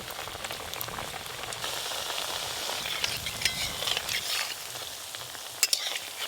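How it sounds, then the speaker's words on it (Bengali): Sweet potato koftas sizzle steadily while deep frying in hot oil, a continuous bubbling hiss with scattered sharper crackles and pops, close and fairly quiet, with no one talking. "আর তেলটা গরম হয়ে আছে, এই তেলে আমি কোপ্তাগুলো ভালো করে ভেজে নেব।"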